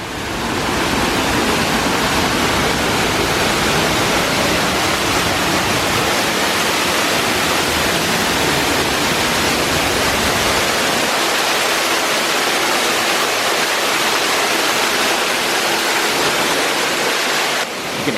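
A waterfall pours steadily into a pool along a hidden nature trail in a theme park, a dense, even roar of falling water that fills the whole stretch without pause, close and loud, with no voices.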